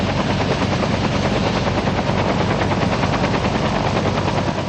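An army helicopter flies over wildfire hotspots, its rotor making a loud, steady chopping that fills the whole stretch without a break and with no voices.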